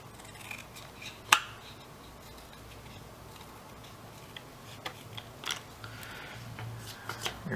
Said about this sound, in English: I'm going to cut this one down the middle.